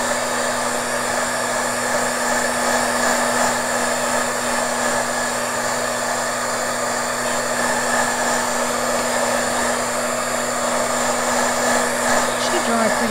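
Steady, loud hair dryer whirs without a break, blowing on paper coated with hairspray. The airflow drone holds one even pitch throughout, and no one speaks over it.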